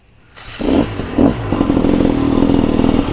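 A motorcycle engine, on a bike that had been flooded, catches and roars up loud and close, with two quick rev bursts before settling into a steady, rumbling run while riding, with no talking.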